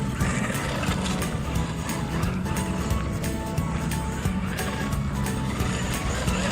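Traxxas Unlimited Desert Racer RC car on a 4S LiPo running over rough dirt with rocks and gravel, a steady close rumble and rattle throughout with gritty crunching from the terrain.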